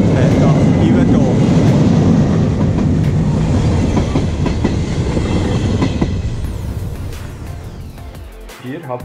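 A train near Estavayer-le-Lac on Lake Neuchâtel, bound for Yverdon, rumbles loudly past at close range with rail clatter before fading away, while people talk over it.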